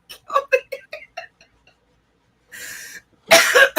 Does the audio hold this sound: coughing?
yes